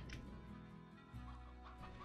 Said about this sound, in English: We got 27... more chickens